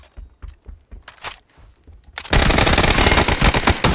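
Gunfire in the battle royale video game PUBG: a few scattered footsteps and thuds, then a sudden, loud, sustained burst of rapid automatic fire that fills the second half without letup, with no talking.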